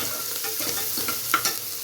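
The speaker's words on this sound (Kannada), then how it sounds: "ಎಲ್ಲ ನೀಟಾಗಿ ಫ್ರೈ ಮಾಡ್ಕೊಳ್ಬೇಕು" Curry leaves with crushed ginger and garlic fry in a pan, giving a steady close sizzle with soft stirring scrapes and a few brighter crackles, no voices.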